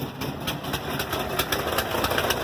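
A Volkswagen Westfalia Vanagon engine idles roughly with a weak battery, a steady close mechanical churn with faint uneven pulsing and no voices over it.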